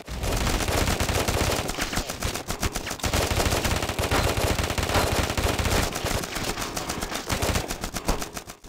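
Sustained automatic fire from the A 500 gun in the mobile shooter Afterpulse, loud rapid bursts almost continuous for several seconds with brief pauses, no talking.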